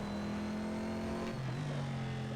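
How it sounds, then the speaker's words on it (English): Engine of a Corvette C7.R race car in a racing video game, held at a steady high drone then dropping in pitch as it brakes hard into the Laguna Seca corkscrew, loud and continuous with no talk. "That's braking for the corkscrew."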